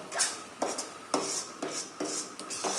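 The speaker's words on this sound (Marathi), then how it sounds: "ह्याला असंच हलवत राहायचं आहे आपण, नाहीतर काय होतं तर कढईला चिकटलं जातं खाली." Coconut sugar syrup stirred in a wok, five or six rhythmic scraping strokes of a spoon against the pan, close and fairly soft, with no talking.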